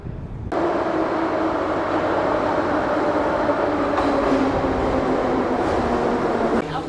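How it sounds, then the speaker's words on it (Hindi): A St. Petersburg metro train rumbles loudly and steadily through a deep underground station, starting abruptly and holding a dense roar with faint wheel clatter and brief squeals for several seconds. "ये देख लो इनकी मेट्रो स्टेशन कितनी प्यारी है।"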